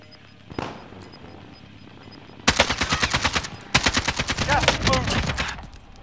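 An AK rifle fires in Call of Duty Warzone: a faint distant shot, then two long, loud, close bursts of rapid automatic fire separated by a short pause.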